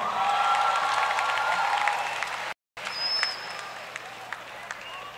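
Audience applause at a live jazz festival concert for the drummer, a broad steady wash of clapping with voices mixed in, broken by a brief dropout and then resuming more thinly.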